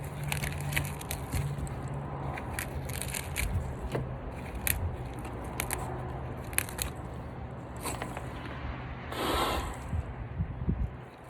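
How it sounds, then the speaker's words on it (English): Crisp snapping and crunching as leaves are stripped off a Brussels sprouts stalk outdoors, with irregular close tearing and cracking over a steady background rumble of heavy equipment. "Well, you can strip the leaves off."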